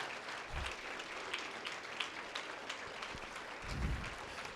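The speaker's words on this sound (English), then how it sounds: "let's all give them and their sponsors a round of applause" Audience at a workplace health and safety summit applauds students and their sponsors, a soft, steady spread of clapping heard from a distance throughout, with a couple of low thumps.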